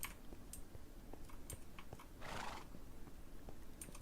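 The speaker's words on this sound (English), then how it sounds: "Hi, horse." A horse whinnies in a Lord of the Rings video game, a loud bright neigh rising and fading in the middle, with soft clip-clop hooves and small clicks scattered around it.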